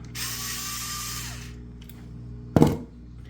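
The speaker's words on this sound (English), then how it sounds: "So you just get a screwdriver and undo those two clips." A screwdriver undoes clips on the head of a Watersnake T24 trolling motor, a short whirring mechanical buzz that winds down after about a second, followed by a sharp close click and clatter.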